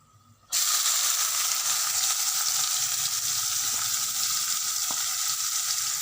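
Steady, loud sizzling of freshly chopped onions frying in a hot pan, starting abruptly after a brief quiet moment and continuing evenly with a faint clink.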